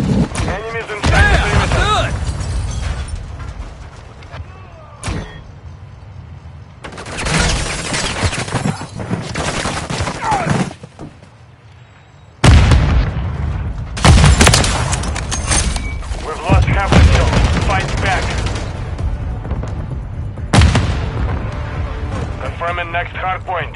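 Loud bursts of gunfire and heavy explosions in a video game firefight, coming in dense waves with short lulls between them, while voices call out over the shooting.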